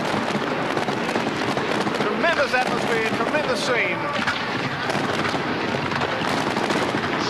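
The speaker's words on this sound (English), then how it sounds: "Onto Lang Park as the fireworks explode." Fireworks burst over Lang Park stadium in Brisbane before a 1990 Winfield Cup rugby league match between the Broncos and Knights, with crackling pops and a whistle under a commentator's voice and steady crowd roar.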